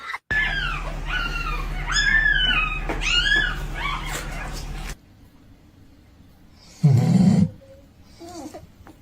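Young puppies whimpering and yipping in a rapid series of high, rising cries for about five seconds over a steady low hum, then a brief louder thump and a few faint squeaks.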